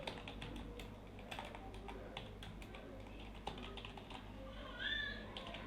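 Text is typed into Microsoft Word on a computer keyboard as a quiet, steady patter of close key clicks at an even typing pace, with a faint voice underneath.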